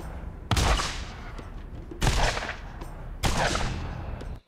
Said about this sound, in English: You're still shooting rockets.